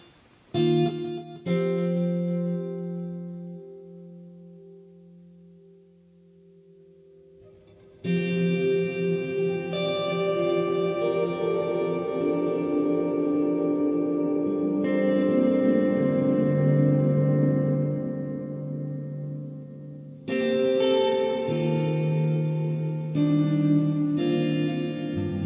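Guitar notes and chords through the dense reverb setting of a Headrush MX5 effects unit ring out bathed in thick, lingering reverb, each strum swelling and slowly decaying into a wash of sound.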